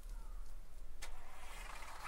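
A bus engine in the video game Little Inferno rumbles and a sudden burst of noise hits midway, followed by a brief rushing swell, steady and moderately loud.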